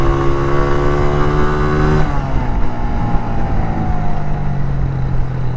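Honda CG125 SE single-cylinder motorcycle engine running on a ride in Lahore, Pakistan, a loud close buzzing drone whose pitch drops partway through as the revs fall off, then settles into a lower steady hum.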